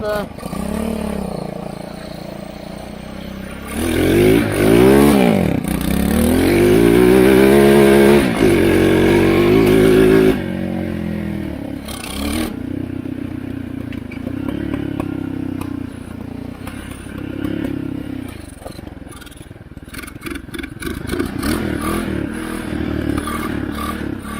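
An old Chinese ATV, left abandoned for seven years, cranks and catches, its small engine revving loudly and unevenly with backfire-like pops before settling into a rougher idle, with some clattering around it.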